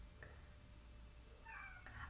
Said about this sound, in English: It's just my cat crying there.